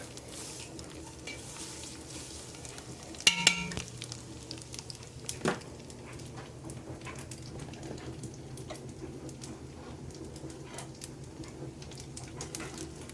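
Chanterelle mushrooms cooking in a thin coat of oil in a pan, a soft, steady sizzle close by, broken early by a couple of clinks of a utensil against the pan, no speech.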